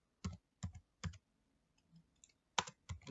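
Typing on a computer keyboard while entering a Neo4j query: short bursts of crisp key clicks in a broken rhythm, close and fairly quiet, with pauses between the groups.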